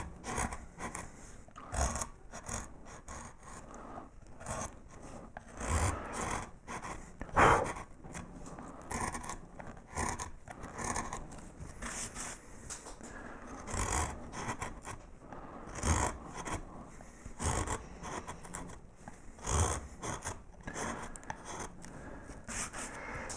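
Carving tool making small rocking cuts at the edge of a workpiece, a run of quiet, separate scraping and rasping strokes in an uneven rhythm, close and faint, with no talk.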